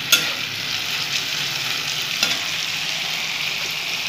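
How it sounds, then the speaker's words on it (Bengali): Thin strips of potato fry in a pan for a Bengali dim aloo bhurji, giving a steady close hiss of sizzling oil with a couple of brief stirring clicks and no talk. "সরু সরু করে আমি আলু কেটে নিয়েছি, দেখো এভাবে একটু ভেজে নেবো।"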